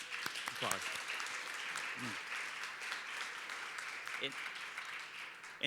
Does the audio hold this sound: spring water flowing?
no